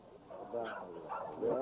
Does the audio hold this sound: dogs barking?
yes